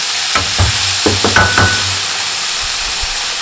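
Dried fleabane greens are stir-fried in a pan. A utensil clatters and taps a few quick times against the pan over a loud, steady sizzle, then the sizzle goes on alone.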